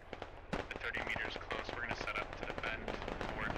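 Distant bullet impacts thudding into dirt during a long-range firefight in the military shooter Squad: a scattered run of sharp, crackling pops over steady background rumble, with talk mixed in.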